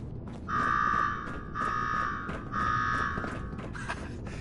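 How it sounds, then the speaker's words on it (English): An alarm blares in the video game Fallout 4 with three long, loud buzzing tones in a steady on-off rhythm over a low background rumble. "Now go shut off that damn alarm"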